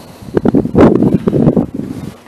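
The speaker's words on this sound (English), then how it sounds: "We got a bunch of wind out here." Gusty wind outdoors at Coeur d'Alene Airport, Pappy Boyington Field, buffets the microphone in loud, uneven rumbling bursts.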